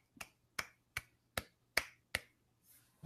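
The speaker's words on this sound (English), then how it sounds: "Golf clap." Six slow, evenly spaced soft claps land about every 0.4 seconds, a lone, sparse golf clap that trails into faint rustling at the end.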